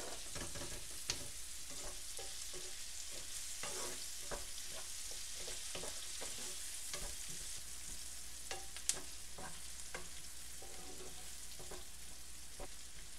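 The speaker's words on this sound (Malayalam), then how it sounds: "സവാള നന്നായി വഴഞ്ഞിട്ടുണ്ട്." Onions sautéing in a pan for a Kerala-style crispy beef fry, a steady close sizzle with repeated scraping stir strokes from a spoon against the pan, continuous and fairly even throughout.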